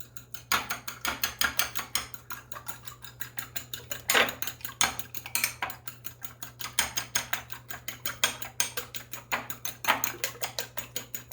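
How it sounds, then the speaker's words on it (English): A fork scrapes and clinks against a pan while scrambling eggs, a steady run of quick, close metallic taps and scrapes, with a few sharper knocks, over a low constant hum. "So then I just scramble it up with a fork."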